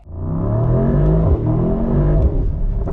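A Mercedes-AMG GT63 engine pulls away under load, a loud, deep and steady rumble that holds throughout at close range, with a brief dip in the middle before the revs build again.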